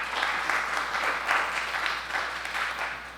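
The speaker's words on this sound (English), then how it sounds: "why don't you join me in giving a round of applause" A panel discussion audience at a film festival applauding, steady crowd clapping that swells and eases in waves at moderate volume.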